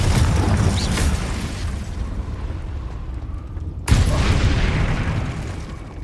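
In Hogwarts Legacy, the Confringo blasting spell lets off a loud booming explosion that rumbles and fades. A second sharp blast lands near the end, set against a dense, noisy game mix.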